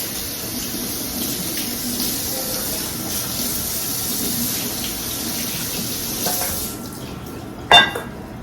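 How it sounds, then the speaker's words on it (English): Steady running tap water splashing continuously for several seconds over soaked pumpkin seeds, close by, with a brief clatter near the end. "I'm going to drain them out and wash them with fresh water."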